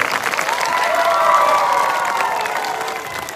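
A church congregation cheers and shouts loudly with some clapping, a sustained swell of crowd voices that rises and then slowly tapers.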